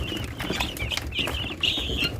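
One-and-a-half-month-old guinea fowl chicks for sale in Andijan give repeated high, thin peeping chirps close by, scattered irregularly over a rustling background with faint wing flutters.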